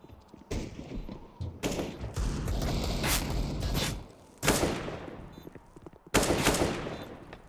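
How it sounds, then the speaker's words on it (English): Gunfire from a Counter-Strike match on the Nuke map between OG and Ninjas in Pyjamas, sharp bursts and single shots with mechanical clatter, loud and close, in clusters separated by short gaps, without voices. "Rez with a clean tap headshot on the MBK's head"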